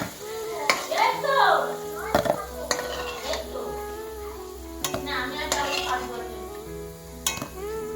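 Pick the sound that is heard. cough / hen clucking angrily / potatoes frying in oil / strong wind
potatoes frying in oil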